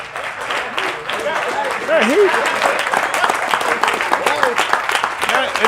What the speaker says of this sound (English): Give you Mr. Yahuah a hand clap.